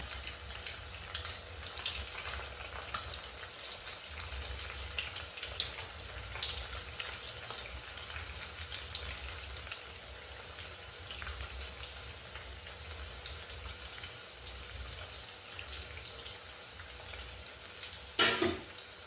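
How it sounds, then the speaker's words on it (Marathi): Leftover roti bhakarwadi deep frying in oil, a continuous rain-like sizzle held at an even level for a long stretch, with a brief louder clatter near the end. "यामध्ये आपण ह्या वड्या टाकून डीप फ्राय करून घेणार आहोत"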